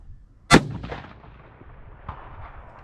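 A single sharp 25 Creedmoor rifle shot cracks loud and close on an outdoor range aimed at a 375-yard target, its report rolling away into a long fading echo with a faint distant thump following.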